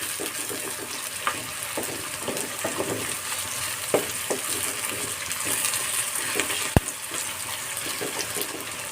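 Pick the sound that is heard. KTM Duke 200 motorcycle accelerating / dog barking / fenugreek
fenugreek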